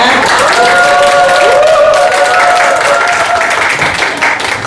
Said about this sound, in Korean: 환호성이 약간 좀 들리시네요